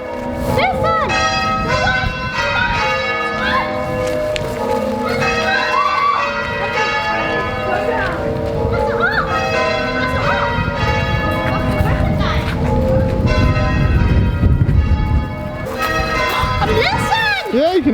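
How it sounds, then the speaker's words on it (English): Church bells ring out on Remembrance Day in a continuous tumbling peal of overlapping strokes, heard from outside the church with people talking nearby. "I can hear the bells!"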